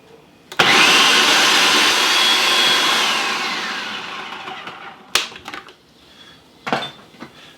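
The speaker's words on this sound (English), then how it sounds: "just these 2 items in the food processor to start with. I want to puree this up." A food processor purees chickpeas. It starts with a loud whirring roar that gradually fades, then gives a few short bursts with clatter between them.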